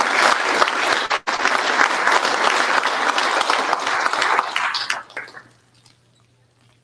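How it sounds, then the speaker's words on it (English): An audience at a drag racing awards ceremony during a trade show claps loudly and steadily, with one brief dip, then the applause tapers off to near silence. "A big round of applause as he walks up here."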